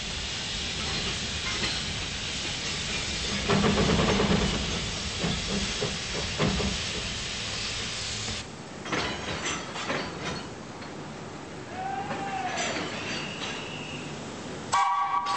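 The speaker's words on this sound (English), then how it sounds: "Locomotives doing the job for which they were really built, for which there is no compare." An old steam locomotive, working on a heritage railway, hisses and chuffs loudly for several seconds, then quieter rail sounds follow with a short whistle blast near the end.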